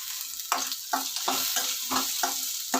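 Ingredients for coriander rice frying in a pan, a loud close sizzle broken by regular stirring scrapes roughly every half second, with no voices.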